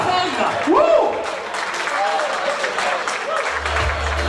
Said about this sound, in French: On va applaudir très fort pour Akani